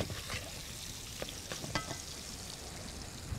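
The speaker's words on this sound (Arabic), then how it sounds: "قلب كده الثوم مع البصل" Garlic and onion fry in a pan while being stirred, making a faint, continuous sizzle broken by a few light scraping clicks, with no one talking.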